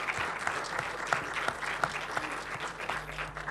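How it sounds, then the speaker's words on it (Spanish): An audience applauds at a book launch event: steady, dense clapping from many hands that carries on without a break and fades slightly at the end. "Para todos ellos también pido un fuerte aplauso,"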